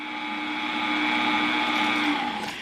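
An electric mixer runs at speed 5 through pound cake batter, a steady close motor whine that holds an even pitch for a couple of seconds before easing off.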